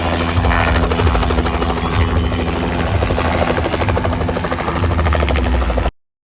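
A helicopter carrying a wedding party between villages thunders close and loud with a steady rotor chop and engine drone throughout, then cuts off abruptly near the end; no speech.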